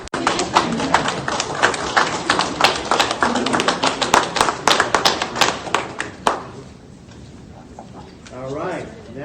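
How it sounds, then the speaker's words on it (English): A group claps hands at a governor's press conference, dense overlapping claps for about six seconds that then stop, leaving quiet room noise and a brief murmur at the end. "All right, now you clap, yep."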